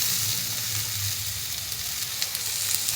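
Chopped onion and capsicum fry in a pan with a steady, close hiss and crackle, occasional stirring pops rising over the continuous sizzle.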